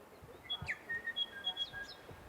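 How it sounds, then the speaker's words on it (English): A bird near Arthur's Pass in New Zealand whistles a few thin, high chirps against quiet mountain air during a hike, faint and somewhat distant. "Wish I could find that bird."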